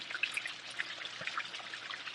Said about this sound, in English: wash it out with some water.